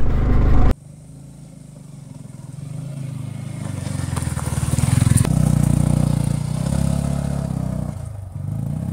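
A Yamaha R15 V3 motorcycle labours up a very steep, broken road, its engine holding a steady loud drone that rises and revs over about nine seconds, with clattering from the rough surface.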